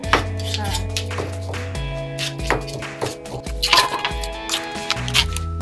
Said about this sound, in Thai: หั่นมะนาวนะครับ